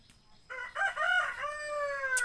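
A rooster crows once close by in a rural garden setting, a rising then sustained call that fades out, with a quiet background.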